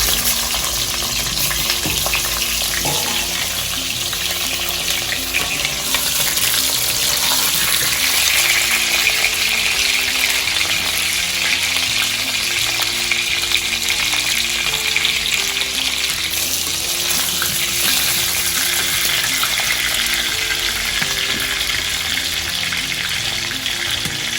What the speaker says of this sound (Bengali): এবারে মাংসের জন্য আলুটা ভাজা হবে, লাল লাল করে ভেজে নেওয়া হবে।